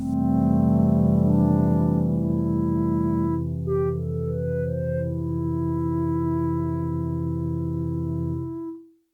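A sustained Kodamo Essence FM synthesizer tone with rich harmonics and a hissy noise layer, partly from operator feedback, partials gliding around midway, steady and loud before cutting off at the end.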